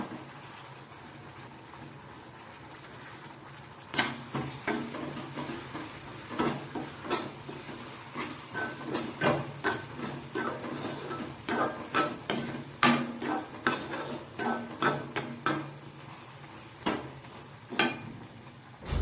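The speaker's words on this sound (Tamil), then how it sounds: "இப்படி கரண்டி வச்சு நசுக்கி விட்டிங்கன்னா நல்லா மசிஞ்சிடும் பயிர்" A ladle presses and mashes cooked green gram in a pot, first a quiet stretch and then a run of irregular, fairly close scraping knocks and clatters against the metal.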